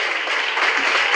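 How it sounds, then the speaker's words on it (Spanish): Church congregation applauding together, a dense, steady patter of many hands clapping at once, loud and continuous throughout with no speech over it. "denle una ofrenda de palmas al Señor para que se sienta gozoso"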